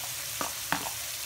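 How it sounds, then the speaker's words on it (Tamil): Onion, green chilli, curry leaves and tomato are sautéed in hot oil for a spicy fish gravy: a steady, close sizzle with two brief stirring scrapes partway through. "கொஞ்ச நேரம் எண்ணெயில் வதக்கணும்"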